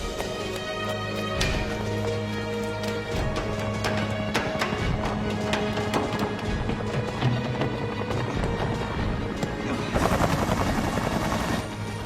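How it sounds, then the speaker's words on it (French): A helicopter's rotor chop and engine roar run continuously and loudly through an action film scene, mixed with crashes and a sudden burst of noise toward the end. "L'hélicoptère."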